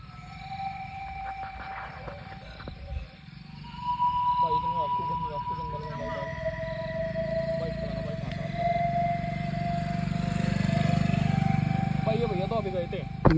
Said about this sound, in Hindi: इतनी रात को भाई बाइक पता नहीं कहां से आने लग रही